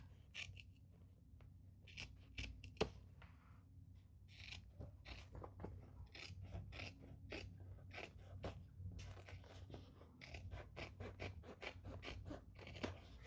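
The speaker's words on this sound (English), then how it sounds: "I'm going to go ahead and trim this too. Oh my gosh, these scissors are better." Scissors snip repeatedly around the edge of a bag while a white Croc custom order is finished, crisp close cuts in an uneven rhythm with short pauses between bursts.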